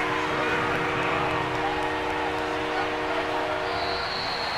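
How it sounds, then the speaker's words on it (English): A referee's whistle sounds before the snap in the American football game Madden NFL 22, a sustained shrill tone over steady crowd noise from the stadium. "Now whistles come in before the snap"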